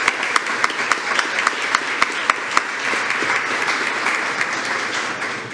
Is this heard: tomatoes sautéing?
no